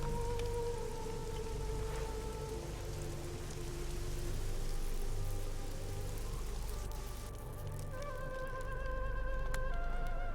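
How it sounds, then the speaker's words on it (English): Steady rain hisses in the video game Risen, a dense, even wash of falling water that holds at moderate loudness throughout, with faint tonal game sounds drifting underneath. "I would rather it not be raining, because look at that visibility."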